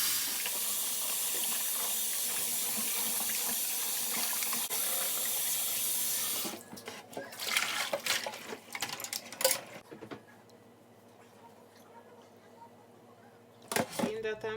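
Tap water runs steadily at a sink while raw chicken is rinsed after soaking in lime water, a continuous hiss for about six seconds, then clattering handling noises and a quieter stretch.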